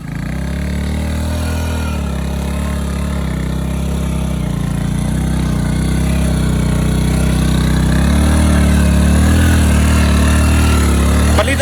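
A motorcycle engine runs steadily and loud throughout, revving harder toward the end as the tyre sits sunk deep in soft river sand on a riverbank, with no talk over it.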